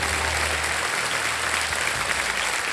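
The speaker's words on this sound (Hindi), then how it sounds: "तालियां बजती रहे देवी और संजय" Studio audience applause on a televised quiz game show, a steady, dense wash of clapping that holds at an even level from start to finish with no voices over it.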